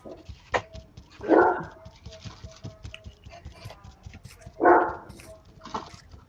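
A dog barks twice from some distance away, short sharp barks separated by a pause, with faint pattering and background noise in between.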